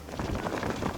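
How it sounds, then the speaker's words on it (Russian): Heavy wind buffeting the microphone on an open field, a constant low roaring rumble that fills the whole second with loud gusty noise. "Ветер просто ужасный."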